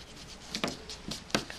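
An eraser rubs out pencil writing on paper during a physics exam tutorial, making several short scratchy strokes in quick bursts, close up and moderately loud, with no voices.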